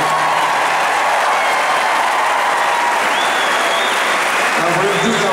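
A crowd applauds steadily for the coaching staff's wives at a college football championship celebration, a dense, continuous wash of clapping from a large audience filling the room throughout.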